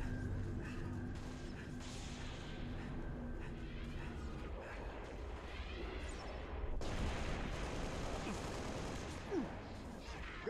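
Gunfire and heavy weapon blasts in the video game Halo: Reach, a dense, continuous battle din of shots and crashes with a sharp louder burst partway through, and a voice speaking faintly under the noise.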